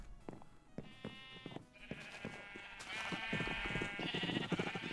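Sheep in Minecraft with the Pixelmon mod bleat repeatedly in overlapping wavering calls from a large flock, several voices layered together, growing busier and louder toward the end.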